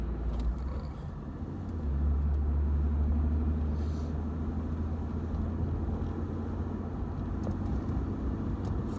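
A car engine rumbles as it speeds up on a road near construction work, a deep heavy drone heard from inside that swells and then holds steady.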